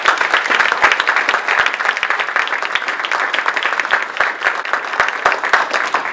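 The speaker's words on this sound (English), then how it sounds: "Please give them a round of applause." A lecture audience breaks into sustained applause, a dense, steady wash of many hands clapping close and loud for several seconds with no talking over it.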